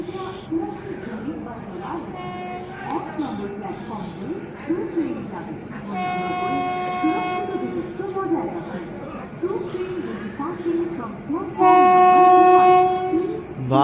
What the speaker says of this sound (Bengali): ট্রেন কিন্তু ঢুকে গেছে আর ট্রেনের স্পিড মোটামুটি ভালোই রয়েছে।